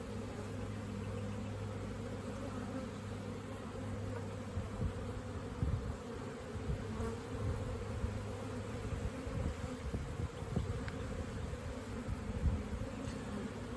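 Honey bees buzz steadily around an open hive during a beekeeper's frame inspection before the honey flow, a dense continuous drone close by with occasional handling bumps and no talk.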